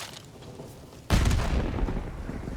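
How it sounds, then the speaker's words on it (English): A single heavy grenade blast in Call of Duty Black Ops 6 Zombies erupts suddenly after a quiet stretch, then rumbles and decays slowly, loud and close. "Let's throw some grenades. I always like to just throw grenades."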